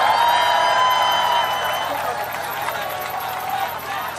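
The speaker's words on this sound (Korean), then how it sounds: "다시 한번 큰 박수 부탁드리겠습니다" Large crowd applauding and cheering outdoors at a Korean election campaign rally for a district head candidate, a dense steady roar of clapping that tapers slightly toward the end.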